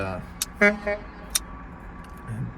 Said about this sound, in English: got people honking their horns.